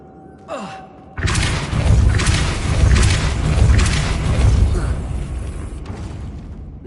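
A Depulso force spell cast in Hogwarts Legacy: a brief whoosh, then a loud sustained burst of magical rumbling and crackle lasting several seconds, pulsing before slowly fading.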